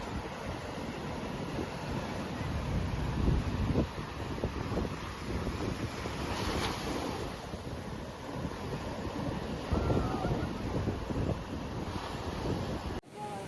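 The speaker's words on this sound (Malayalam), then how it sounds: "ഭയങ്കര തിരയാണ് അടിച്ച് പതപ്പിച്ചാണ് ഉള്ളിലോട്ട് കയറിയിരിക്കുന്നത്" Heavy surf roars continuously at Vettucad Beach with strong wind buffeting the microphone, foaming waves surging and crashing nearby without any voices.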